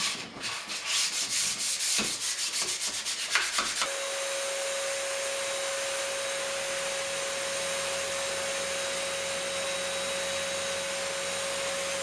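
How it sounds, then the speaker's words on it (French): Used 400-grit sandpaper rubs back and forth over a varnished wooden bench in quick rasping strokes for a few seconds, then gives way to a steady mechanical hum with a high tonal whine. "je le ressabre avec un papier 400 environ, idéalement usagé"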